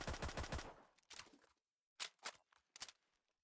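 Full-auto rifle fire in Roblox Phantom Forces emptying a whole magazine: a rapid loud burst of shots, then a pause and a few separate mechanical clacks and clunks, with a faint high whine between them.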